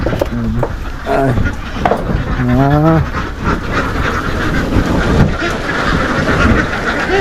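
Ducks on a Pampanga duck farm where the birds are kept for eggs, quacking and honking in a noisy flock at close range, with people talking over the birds throughout.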